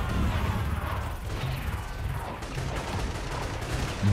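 A Singularity power attack in inFAMOUS First Light erupts in a dense, crackling barrage of impacts and bursts, loud and continuous, like rapid explosive fire.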